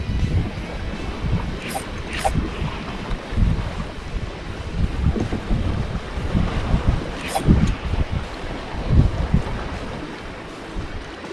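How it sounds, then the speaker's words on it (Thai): Strong sea wind on an open shoreline during shore fishing for squid buffets the microphone in a steady, rough roar, with surf washing in underneath and brief gusty bursts throughout. "นี่ลมเริ่มมาแล้วเนี่ย"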